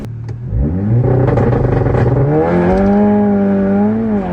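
A tuned VW Golf R Mk7.5 engine revs hard, rising and holding a loud, close, raspy tone after a short quieter start, with no talk over it.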